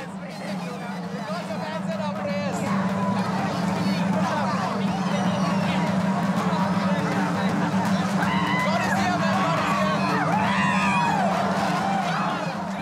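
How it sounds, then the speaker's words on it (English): A Jaintia crowd at a ritual, where people struggle to walk on a sacred trunk: steady loud hubbub with whoops and shouts rising over a constant low drone throughout. "The crowd is fighting hard to walk on the sacred trunk."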